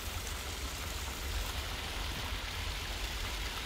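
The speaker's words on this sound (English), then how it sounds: "All the waterfalls." Garden waterfalls splash and rush in a dense, steady wash of falling water, quiet and continuous with no voices.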